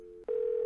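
Telephone tone in the Nancy Drew: The White Wolf of Icicle Creek video game: a steady electronic hum, briefly interrupted, then resuming clear and constant.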